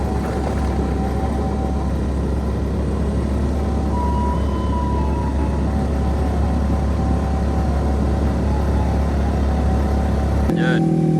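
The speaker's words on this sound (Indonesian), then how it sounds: "Motor metiknya udah mulai agak nyerah." A small automatic scooter engine strains steadily uphill with a constant loud, close drone and wind rush, then cuts off abruptly near the end.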